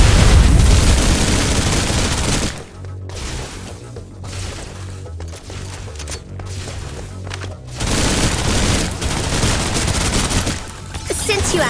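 Sustained, loud gunfire fills the Snowbreak Containment Zone shooter, with dense rapid bursts at the start and end and a sparser middle stretch of thuds and pops.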